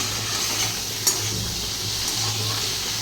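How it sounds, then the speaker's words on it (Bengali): Cleaned prawns with heads left on fry in a pan, giving a steady close sizzle with a brief clink of a utensil partway through and no talk. "চিংড়ি মাছটা ভাজা বসিয়ে দিয়েছি পরিষ্কার করে"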